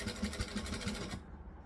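A sewing machine back stitches through fabric in a rapid, even mechanical whirr with rhythmic ticking, running close and then stopping abruptly near the end.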